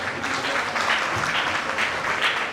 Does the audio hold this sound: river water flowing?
no